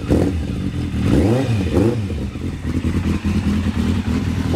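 An old motorcycle engine revving hard, loud and close, its pitch swinging up and down through several throttle blips over a rough, fruity exhaust rumble, with no talking.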